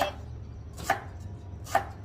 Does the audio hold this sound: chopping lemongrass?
yes